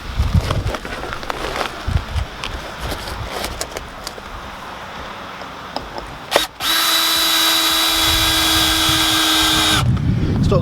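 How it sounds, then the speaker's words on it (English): A power drill drives a screw through a piece of wood into the edging of a no-dig garden bed, one loud steady whine of about four seconds close by, after some softer handling and rustling outdoors. "we're going to take a little bit of wood, put a screw through it"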